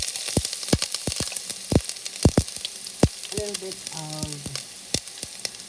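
Garlic and ginger fry in a pan with a steady, close sizzle punctuated by stirring scrapes, while a voice speaks briefly over it.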